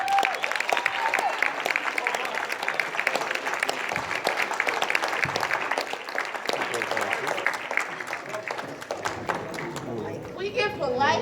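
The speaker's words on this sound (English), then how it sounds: "Can we give Cornell West a round of applause?" Audience applause for Cornell West at a Black unity convention, loud sustained clapping from a crowd with cheering voices mixed in, running steadily throughout before thinning toward the end.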